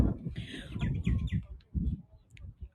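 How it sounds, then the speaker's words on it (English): An Australian magpie warbles in rich, varied phrases, fairly close, with soft background noise and a few high chirps near the end. "There's a magpie there, and he's singing, and it's gorgeous."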